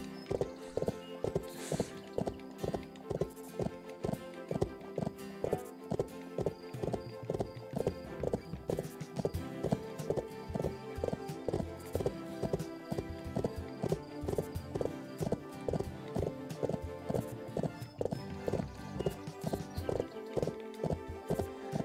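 Steady, rhythmic hoofbeats of a royal horse trotting in the Bibi & Tina: Auf dem Martinshof video game, a brisk clip-clop repeating evenly throughout with a faint whinny early on.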